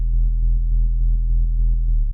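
A deep bass line beat with a wobble effect, its low tone pulsing in an even repeating rhythm of about eight throbs before cutting off abruptly.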